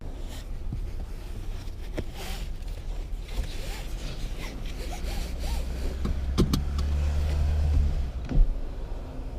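Cabin noise inside a 2018 Mustang GT with a Roush resonator delete X-pipe: a steady low engine and road drone that swells gradually while driving, with occasional clicks and rustles inside the car.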